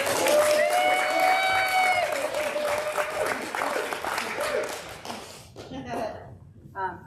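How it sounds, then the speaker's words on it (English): A crowd at a parish hall forum applauds, broad clapping and some cheering that swells and then thins out, with a voice carrying over it early on and scattered claps trailing at the end. "Let's do a really big applause"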